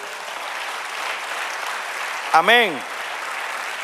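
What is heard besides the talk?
congregation applauding in church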